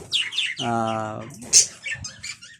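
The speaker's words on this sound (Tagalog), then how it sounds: "Dito sa ating parakeets, sa ating African lovebirds, yan." Pet parakeets and African lovebirds chirp and tweet close by in quick, overlapping bursts, with a sustained harmonic call in the middle and sharp high peeps near the end.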